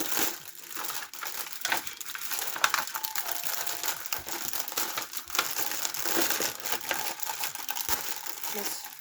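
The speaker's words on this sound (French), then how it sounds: "Je vais la déballer." Crinkling and crumpling of packaging as a Tony Chopper figure is unwrapped, a steady run of close rustling and crackling with occasional sharp crinkles throughout.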